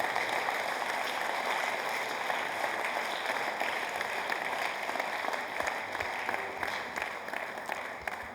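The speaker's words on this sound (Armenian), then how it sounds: "Եկեք ծափարությունով ճանապարհենք։" A church congregation applauds together in a sustained, dense wash of clapping that holds steady for several seconds before beginning to thin out near the end.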